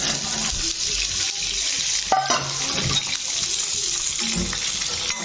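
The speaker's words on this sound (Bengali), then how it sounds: "এগুলোকে আমি হালকা ফ্রাই করে হালকা ভেজে নেব" Seven dry red chillies frying lightly in hot oil in a pan, a soft continuous sizzle with stirring scrapes and a brief clink partway through, no talk.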